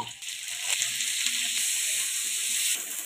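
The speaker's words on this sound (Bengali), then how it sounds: "এবার পটলগুলো ভেজে নেব।" Pieces of pointed gourd (potol) fry in oil in a pan for a Bengali cabbage dish, giving a steady, close, even sizzle that holds loud throughout with no talking.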